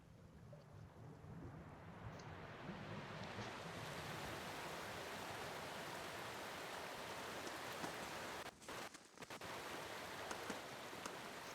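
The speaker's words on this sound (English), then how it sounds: "You hear the sliding of stone underneath your feet and a sudden rush of water." Water rushes steadily as a stone pool drains in the fantasy game Pillars of Eternity, a broad continuous hiss and roar that swells in over the first few seconds and holds loud, with a brief dip near the end and no talking.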